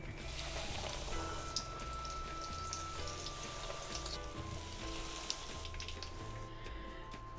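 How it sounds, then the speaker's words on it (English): Egg-dipped bread stuffed with mozzarella fries in a pan with a soft, steady hiss and fine crackling like light rain, fairly faint and unbroken, with no speech. "Now I put in the fry pan."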